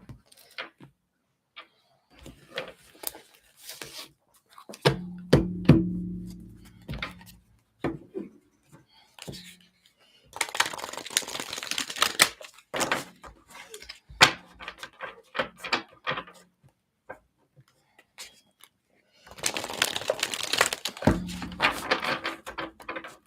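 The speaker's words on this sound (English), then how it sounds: "I'm pre-shuffling my ancestors, angels and ancestors deck." Tarot-style angels and ancestors oracle card deck being shuffled by hand indoors, with close bursts of dry papery riffling and rubbing at intervals, separated by quieter gaps holding light handling clicks and taps.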